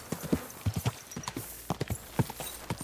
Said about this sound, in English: Run away, horse!